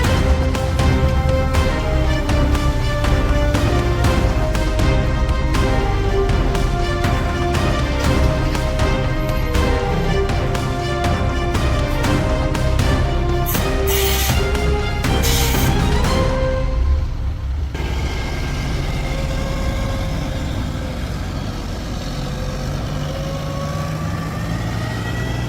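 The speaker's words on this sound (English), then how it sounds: "Now he is revving the engine just to build up air pressure for another backup attempt." A heavy truck engine revs and holds at high idle to build up air pressure, a loud, steady low rumble with a harsh mechanical edge. Its pitch and level drop sharply partway through.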